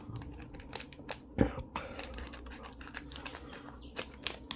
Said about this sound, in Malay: So aku gunting dulu.